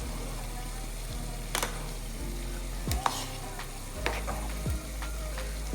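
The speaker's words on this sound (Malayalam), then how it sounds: "അപ്പോൾ മസാല ഇവിടെ വഴറ്റി വരുന്നുണ്ട്." Masala sautés in a pan for Thalassery dum biriyani, giving a steady close sizzle over a low hum, broken by occasional sharp scrapes and taps from stirring.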